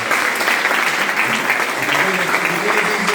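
Sustained audience applause for keynote speaker Cana Brooks at a Kappa Alpha Psi Achievement Foundation scholarship event, a dense, even roar of many clapping hands filling the room at close, loud level throughout.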